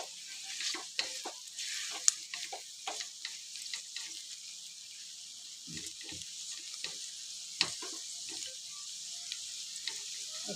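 Beans and carrot curry being stirred in a frying pan with coconut powder, a steady low sizzle running throughout, with repeated soft scraping strokes of the spoon, close and fairly quiet.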